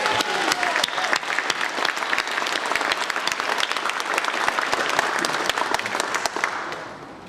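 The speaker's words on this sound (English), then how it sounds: "please give the Stanford delegation one more round of applause" Crowd applause for the Stamford delegation at a political endorsement speech, sustained dense clapping with sharp individual claps standing out, fading at the end.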